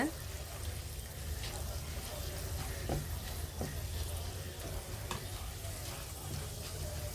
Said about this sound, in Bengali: এটা আস্তে জালে ভেজে নিব কিশমিশগুলো বলের মতো ফুলে উঠতেছে